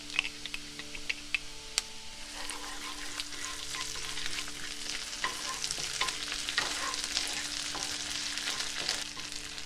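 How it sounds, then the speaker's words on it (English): Ginger garlic paste sautés with onions and green chilies in a pan for Indian jeera rice, giving a steady close sizzle with frequent scraping stirs and spoon clicks throughout. "And saute for a minute"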